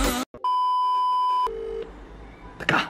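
A phone gives a single steady electronic tone lasting about a second, loud and close, followed by a lower, shorter tone and then some brief rustling noise.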